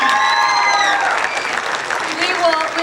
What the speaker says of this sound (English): give these ladies and gentlemen another round of applause